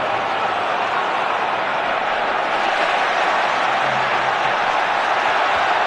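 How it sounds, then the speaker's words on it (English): Dense, steady roar of a big football stadium crowd at England v Croatia, a continuous loud wash of massed voices that stays level and swells slightly toward the end. "Well, the crowd have really raised the volume at the start of the second half."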